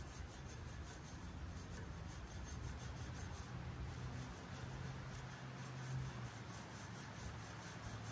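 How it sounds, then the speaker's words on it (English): Wire brush scrubbing loose rust off the underside of a V8 Toyota 4Runner, a steady, continuous scratchy rasp that stays fairly faint and unbroken, with no voices. "I'm just gonna wire brush"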